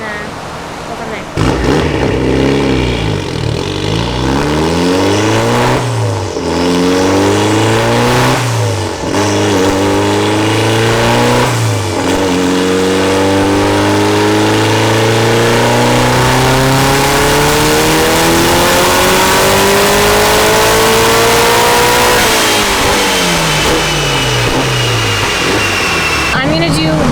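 A Mitsubishi Evo 8 revs hard on a Mustang dyno, its engine note sweeping up and down through repeated pulls, then holding a long climbing run, loud and close and filling the space.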